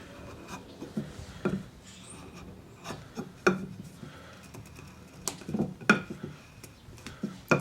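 A mortise gauge scribes deep mortise lines into the wood of a Queen Anne side table, with soft scratchy strokes and light knocks and taps at irregular intervals, close and quiet.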